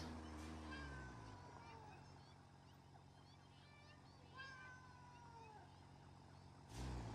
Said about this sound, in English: Where are all those cats?